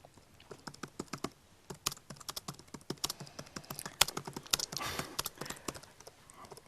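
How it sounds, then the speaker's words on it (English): Rapid typing on a computer keyboard: quick, irregular bursts of crisp key clicks, close and fairly loud, with a few heavier strokes and no speech over them. "You're a very fast typer"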